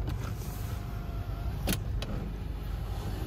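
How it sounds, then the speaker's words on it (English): Panoramic roof on a Mercedes CLA Shooting Brake opening and sliding back, a faint steady electric motor hum with a couple of soft clicks inside the car, no talk over it. "opens and slides like so"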